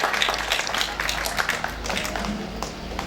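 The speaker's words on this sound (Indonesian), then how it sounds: "Kita beri tepuk tangan yang sangat meriah." Audience applause at a Ramadan Quran recitation contest in Larompong, a dense, steady crackle of many hands clapping together, fairly loud and without talk over it.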